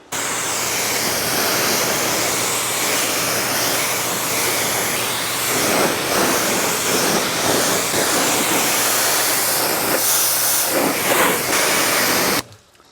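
A pressure sprayer blasts softened bugs off a Ford truck, a Krietz Customs Edition, giving a loud continuous hissing spray close by that runs unbroken and cuts off at the end.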